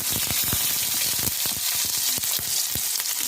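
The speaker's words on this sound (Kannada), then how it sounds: "ಎಣ್ಣೆ ಕಾದಿದೆ, ಸಾಸಿವೆ ಹಾಕೊಳ್ಳೋಣ. ಹಾಗೆ ಈರುಳ್ಳಿ ಹಾಕ್ತಾ ಇದ್ದೀನಿ." Onions and mustard seeds frying in hot oil for tomato sambar, a dense steady sizzle with crackling pops and stirring scrapes throughout, close and loud.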